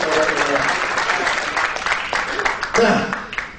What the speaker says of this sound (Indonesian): Tepuk tangan dulu, ini luar biasa.